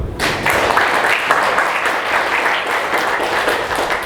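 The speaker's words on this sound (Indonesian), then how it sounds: "Ya, aplaus dulu." An audience at a leadership talk breaks into steady, loud applause, many hands clapping continuously from start to finish with no speech over it.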